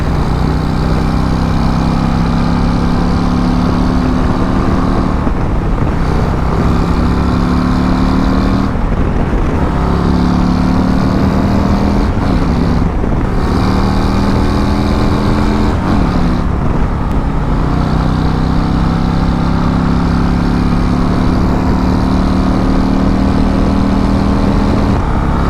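A Harley-Davidson CVO ST motorcycle engine droning loudly and steadily on the road, its pitch rising and dropping with repeated gear changes over a continuous rumble.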